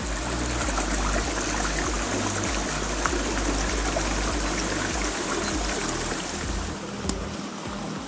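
The Bocino river near Mogarraz, Salamanca, flows past oak woods and stepping stones, a close, loud, continuous rush and babble of water with no talk.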